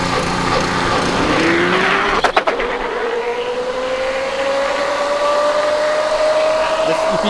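An electric Honda Grom motorcycle accelerates hard with a rising whine, its tire briefly skipping in a quick stuttering chatter midway, amid loud wind rush.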